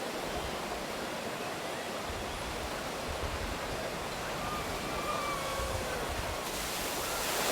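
Viking Splash water ride at Legoland Billund, a continuous broad roar of rushing, splashing water, steady and fairly loud, with faint voices in the background.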